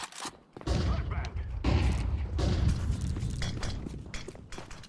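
Counter-Strike match audio with a flashbang and a sustained burst of gunfire, loud and close, rolling in dense booms and rapid shots over several seconds while players talk.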